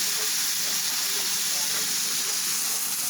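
Beef browning in a pan for canning gives a steady, loud broadband sizzle and hiss, even and unbroken throughout.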